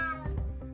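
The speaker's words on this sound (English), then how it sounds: "Damn cat." Cat meowing in the stealth action game UnMetal: a single drawn-out, close meow, clear and alone.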